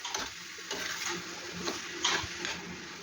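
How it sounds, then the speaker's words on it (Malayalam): Mixed vegetables with green peas stirred in a pan on the stove: soft scraping and clicking strokes of a spoon repeat irregularly, close up, over a faint background hiss. "നന്നായിട്ട് ഒന്ന് ഇളക്കുക."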